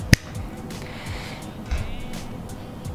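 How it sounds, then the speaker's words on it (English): A finger snap recorded close-up on a budget Boya microphone, one sharp crack at the very start followed by faint room noise and a soft bump. "Here's the snap."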